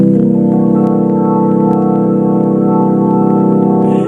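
A gospel organ sustains a C dominant seventh chord with a sharp eleventh, one steady, loud, full-bodied tone that holds unbroken for about four seconds with no talking.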